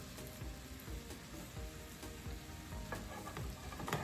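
Hot dogs frying in a non-stick pan, a steady crackling sizzle with soft stirring and scraping knocks, close up and fairly quiet, no talk.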